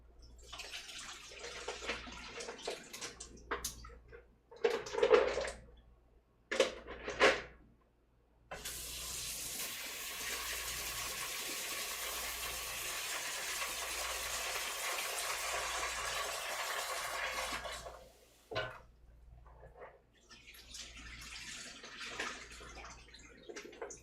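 Tap water splashes into a kitchen sink while mussels are rinsed: first short bursts and pauses, then a long steady rushing stream, a brief stop and softer running at the end, moderately loud and close.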